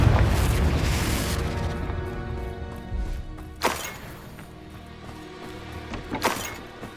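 Explosion spells going off in the Hogwarts Legacy video game, a dense roaring blast that decays over several seconds, with sharper bursts and booms following, and no talking.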